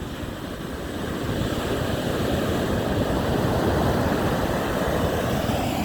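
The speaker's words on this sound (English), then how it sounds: "We got some ocean at least." Ocean surf rolling onto a sandy beach, a loud, continuous wash of breaking waves mixed with wind buffeting the microphone, swelling slightly after the first second.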